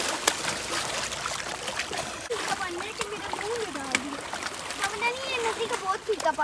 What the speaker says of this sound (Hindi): ये नदी नहीं है, समुंदर है।